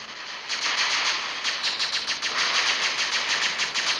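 Sustained automatic robot gunfire in the War Robots video game, a loud, steady rattle of rapid shots running continuously, with no talking.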